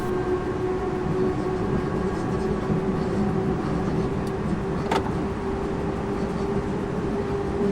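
A CC 40100 electric locomotive accelerates hard between Dunkerque and Lille Flandre, giving a steady loud cab hum with a sustained electric whine and rolling rail rumble, plus a brief clank near the end.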